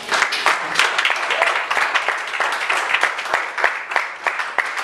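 A church congregation applauding in praise during a worship service, a dense, steady crowd clapping that carries on for several seconds without a break.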